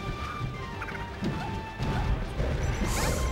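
Samus's missile striking Jigglypuff in Super Smash Bros. Melee during a doubles match, with a crisp impact crack amid busy game effects and a brighter hiss toward the end, all fairly loud and close.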